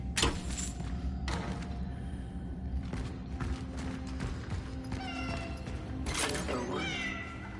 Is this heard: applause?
no